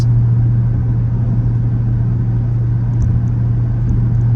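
A Jeep SRT with a V8 engine cruises on eight cylinders, giving a steady low droning rumble from inside the cabin throughout, without any talking.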